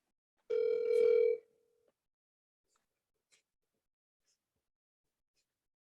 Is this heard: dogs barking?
no